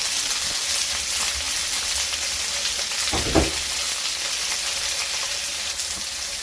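Chicken afritada loaded with tomatoes fries in a pan, giving a steady, close sizzle throughout with a brief louder crackle and stir partway through.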